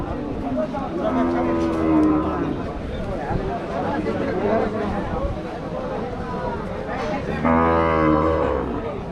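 Cattle at a livestock market, including pregnant cows, give two loud, close, drawn-out moos, one near the start and one near the end, amid steady crowd chatter and market noise.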